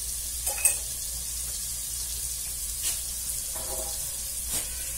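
Chicken stew sizzling and browning in a hot cheap pan during home cooking, a faint steady frying hiss with a few soft stirring knocks now and then, and no one speaking.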